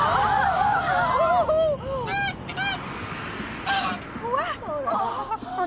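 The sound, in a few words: goose honking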